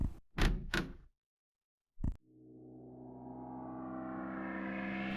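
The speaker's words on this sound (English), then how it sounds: "You take the key and open the door to outside." In a scary video game, a door opens to the outside: a couple of knocks or thuds, then a sharp clunk after a short silence, followed by a swelling, rising ambient wash of outdoor sound.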